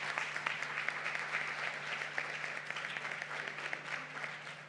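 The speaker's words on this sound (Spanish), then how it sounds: "Un aplauso para ellos. Un fuerte aplauso." Audience applause for panelists at the close of a financial planning summit in Peru, steady fairly faint clapping heard from a distance, sustained throughout.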